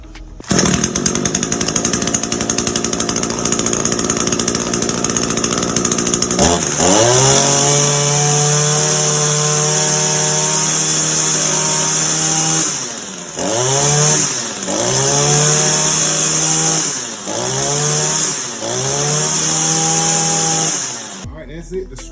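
An Echo 225 string trimmer's small two-stroke engine runs loud and close, first at a steady high whine, then dropping to a rough idle punctuated by several quick throttle blips.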